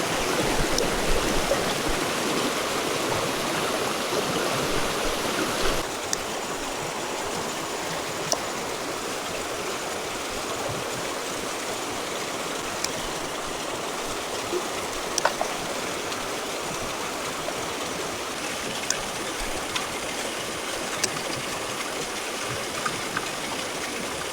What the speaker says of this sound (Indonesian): kita pindah naik aja cuy ke aliran yang lebih kecil. Siapa tahu arusnya lebih oke